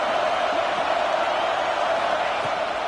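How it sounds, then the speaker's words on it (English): Steady stadium crowd roar in College Football 26, a dense, continuous wash of noise from a packed stand as fans try to pin the offense deep in its own end; loud and unbroken, under game commentary. "this crowd trying to help keep them there"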